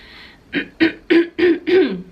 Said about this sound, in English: I'm like clearing my throat a ton